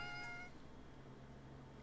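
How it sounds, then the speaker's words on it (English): A tabby cat lets out a single short, clear meow at the very start, then the rest is a low, quiet background hum. "That's a cat."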